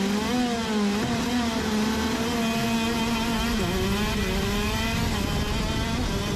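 Euro shifter kart engine screaming at very high revs while racing at South Garda, a loud sustained high-pitched whine with shifting pitch as the kart accelerates and brakes through corners, continuous and close with no talking.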